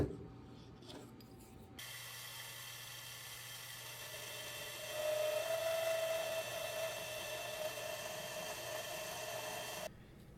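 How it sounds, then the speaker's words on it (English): A hole is drilled into the handle of a 1930s Excelsior power hacksaw, a steady mechanical whir that starts abruptly, rises in intensity with a thin whine midway, and stops cleanly after about eight seconds. "and then drill the hole."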